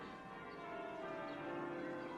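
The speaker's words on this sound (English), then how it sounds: "those damn church bells" Church bells ring in a historical setting, a dense sustained wash of overlapping tones held at steady loudness throughout, with no voices.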